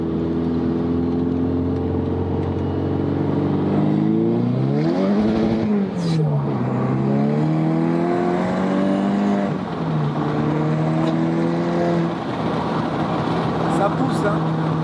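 Inside a Volkswagen Scirocco with a 400 hp engine, the motor pulls hard under acceleration, its loud, steady roar rising in pitch, dipping briefly at a gear change around the middle, then climbing again.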